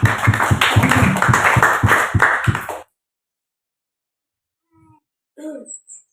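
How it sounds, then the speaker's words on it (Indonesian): A church congregation at a worship service in Rote Ndao claps together, dense, sharp and fairly rhythmic, for nearly three seconds before stopping abruptly; after a silence, a brief voice and a few small sounds follow. "Tepuk tangan."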